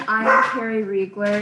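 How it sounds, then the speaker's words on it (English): A dog barks and whines in several quick yips at close range while someone speaks over it, the barks overlapping and interrupting her voice. "Excuse my dog's barking."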